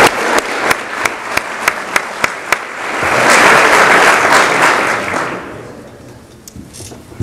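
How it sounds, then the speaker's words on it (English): An audience at a governor's sustainability awards ceremony gives the award winners a round of applause, starting with a few sharp, evenly spaced claps that swell into dense, loud applause and then fade. "one final round of applause for all our award winners"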